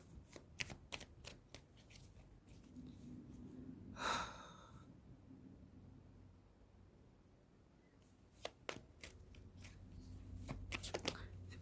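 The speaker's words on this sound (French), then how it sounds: "Ça se voit que les cartes elles sont dans tous les sens. Rien qu'en mélangeant." Tarot cards shuffled by hand in a loose, jumbled deck: soft, close riffling and card flicks come in bursts, with a brief breathy gasp partway through and quiet room noise between the bursts.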